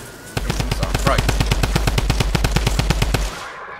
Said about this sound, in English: that's probably a bit loud for you mortals. I'm gonna try to turn it down a bit. Because, wow, that drum gun.